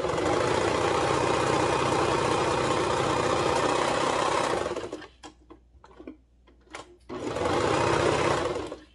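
Sewing machine stitching the shoulder seams of a dolman tee, a loud steady whirring run for about five seconds, then a few brief stops and starts before another sustained burst.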